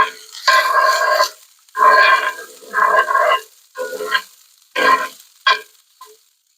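Loud sizzling bursts from food frying in a hot pan for street corn, coming in several separate crackling surges with short quiet gaps between them.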